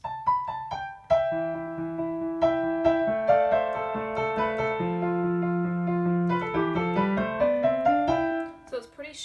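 Piano plays the third part of a theme, a bright, bouncy right-hand melody an octave up over steady bass notes, clear and close with crisp repeated attacks for about nine seconds, no talking.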